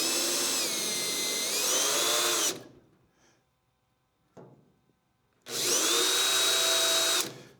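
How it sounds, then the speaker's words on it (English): A power drill whines loudly for a few seconds boring holes in the body of a 1965 Ford Thunderbird convertible, spinning down, then a short pause with a faint click before the drill whirs again. "So I have to drill a couple holes."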